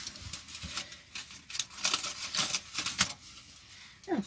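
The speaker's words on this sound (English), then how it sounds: "Need to take the foil off." Foil is peeled off a takeaway food container holding fish and chips, a run of close crinkling and crackling bursts that rise and fall irregularly, with no talking.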